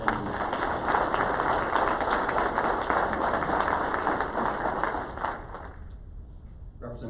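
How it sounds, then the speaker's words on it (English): Audience at a community breakfast event applauds the fire chief and first responders, a steady, dense wash of clapping that fills most of the stretch before thinning out near the end. "Round of applause for them."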